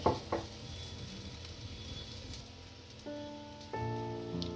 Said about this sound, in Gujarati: અને પાછું થોડુંક સાઈડમાં તેલ નાખી દઈશું અને છડવા દઈશું.